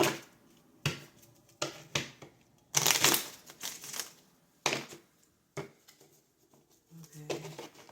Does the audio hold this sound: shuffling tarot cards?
yes